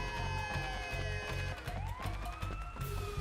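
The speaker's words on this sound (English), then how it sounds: "You know, what's making that siren noise?" A police siren wails in the Sleeping Dogs video game, rising and falling tones sweeping over a steady thumping music beat, moderately loud and continuous throughout.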